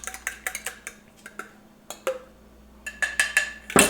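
Ingredients for maple syrup garlic chicken wings are mixed in a bowl, giving a run of light clinking and tapping strikes against the bowl, irregular and close, with a louder clatter at the end.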